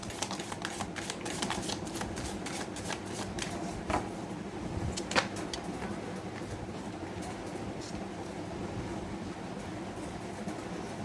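Tarot cards are shuffled by hand, a soft rapid flutter of card edges with quick riffling clicks, fairly quiet and continuous.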